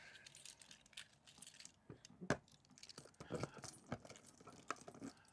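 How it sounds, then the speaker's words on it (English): A bunch of keys jingles and clinks in short bursts at a caravan during winterising, fairly quiet and close, with scattered metallic rattles over a soft background. "Get the keys."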